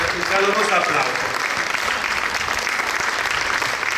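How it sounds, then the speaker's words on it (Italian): Audience applause greets a professor as she steps onto the stage at an outdoor summer cultural event in Termoli, Italy; dense, steady clapping fills the whole stretch, with a few voices audible at the start. "la accogliamo con un caloroso applauso"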